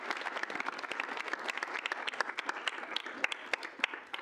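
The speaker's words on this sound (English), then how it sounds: "If we can get a round of applause." Sustained applause from a student senate audience in a meeting room, dense overlapping claps steady throughout at moderate loudness, with no talking over it.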